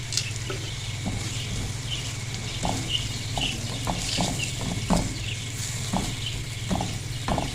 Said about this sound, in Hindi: थोड़ा सा हम इनको फ्राई करेंगे।